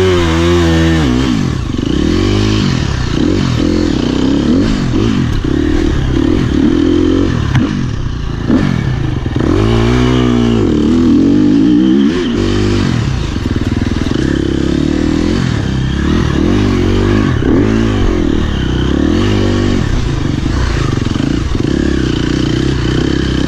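A racing motorcycle engine heard on board during a TCCRA race screams through repeated rises and falls in pitch as it shifts gears and revs out of corners, loud and close the whole time, with no talking.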